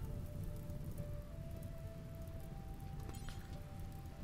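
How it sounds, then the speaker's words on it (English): Rain falls in the colony-building video game RimWorld as a soft, steady patter of drops on a surface, faint and continuous, with a thin sustained tone underneath. "It's raining! Yay!"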